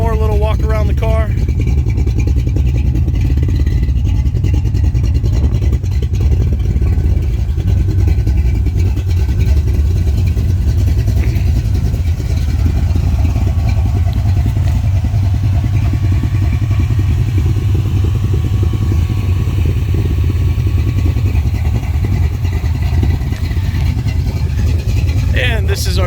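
A 1999 Ford Mustang with a 429 engine running at a muscle car dealership, giving a steady, loud, low rumble that holds evenly for the whole stretch.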